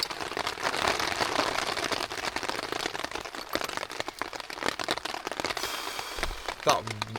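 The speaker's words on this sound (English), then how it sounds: "That rain's crazy." Heavy rain pelts a tent at a campsite in a rainstorm, a dense continuous patter and crackle running throughout, with scattered louder drops and some handling noise near the end.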